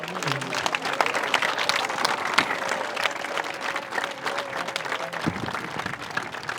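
A congregation applauds at the close of a Stations of the Cross service in a parish church, steady crowd clapping filling the room throughout, with a faint sustained tone and some murmuring beneath.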